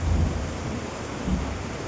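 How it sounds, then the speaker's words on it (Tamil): Heavy rain falling outdoors with rolling thunder, a dense steady hiss of rainfall under deep low rumbles that swell and fade, close and fairly loud. "வாங்க மழை பெய்யுது பார்க்கலாம்."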